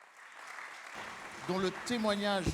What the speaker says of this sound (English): We can give her a big round of applause.